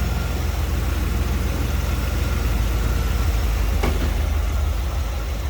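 A 1980 Chevrolet Corvette engine idles smoothly and steadily up close, a constant low rumble with no revving or variation.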